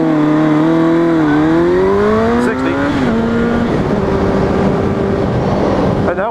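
A 2005 Suzuki GSX-R 1000 motorcycle accelerates hard from a standstill toward 60 mph, its engine note climbing steadily in pitch through successive gears with brief drops at each shift, loud and close throughout.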